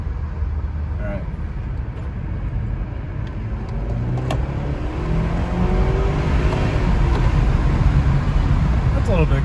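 A BMW F34 328i GT with a JB4 tune accelerates from inside the cabin, its engine note rising and growing louder over several seconds beneath steady road noise.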